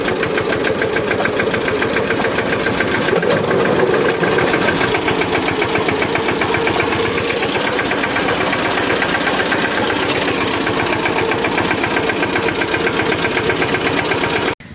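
A tractor engine chugs loudly and steadily at a constant idle, its rapid rhythmic knocking continuing unbroken throughout.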